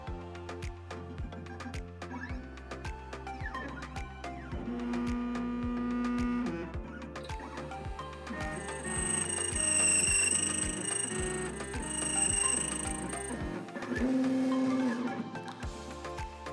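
A key cutting machine cutting a key, its motor whirring and whining while the pitch steps up and down in stages, with faint high tones over a steady mechanical hum.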